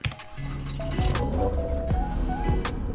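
Volkswagen Beetle engine starting up in the Roblox game Greenville, a synthetic motor drone with rising whine sweeps, steady and fairly loud throughout.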